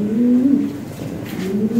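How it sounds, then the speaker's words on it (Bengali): A breeding pair of big white Lahori pigeons coos in short, low, throaty bursts close by, two rolling calls separated by a brief pause, with no talk over them. "এখানে এক পেয়ার হোয়াইট লাহোরি আছে, বিগ সাইজ, টপ কোয়ালিটি একদম"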